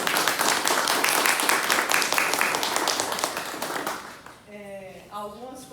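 Applause at a museum exhibition opening, a dense crowd clapping loudly for about four seconds before fading, followed by a brief voice.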